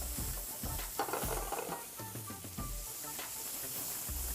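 Vegetables hiss and sizzle steadily in a hot pan of fish drippings, with scattered clinks and scrapes of stirring over a constant fry, with no talking.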